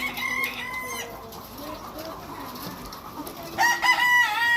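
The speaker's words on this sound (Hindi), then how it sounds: "मुर्गे आए हुए थे यहाँ पे।" Farm roosters kept for Eid crow and cluck close by, several long crows rising over a steady background of clucking and hens, with a brief pause in the middle before more loud crowing.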